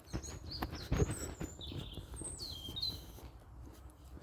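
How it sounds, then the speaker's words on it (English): Several birds chirp and whistle in short, high melodic phrases in Brookdale Park, over a faint outdoor background, fairly distant and quiet. "Wonderful sounds of the birds as we walk through Brookdale Park."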